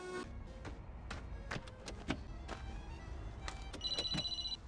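A telephone ringing in repeated short electronic bursts over a steady background hum, with a sustained ringtone tone near the end and no speech.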